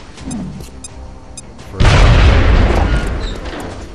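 A grenade blows up in the video game XCOM: Enemy Unknown, a sudden heavy boom midway that rumbles and slowly decays, after a quieter stretch of game ambience and small electronic chirps.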